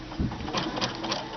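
A sewing machine runs a slow, narrow zigzag satin stitch with a fringe looping foot, the tension and stitch length turned down to about 0.4. The needle clatters in a soft, steady, rapid rhythm, close by.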